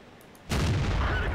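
A tank destroyer's artillery shot in a video game fires as a single sudden, loud boom that rolls on as a sustained rumble.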